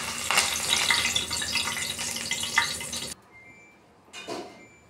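Curry leaves crackle and sizzle in hot oil in a pan alongside fried peanuts, a loud dense frying hiss for about three seconds that cuts off abruptly, followed by a quieter brief burst of sizzling.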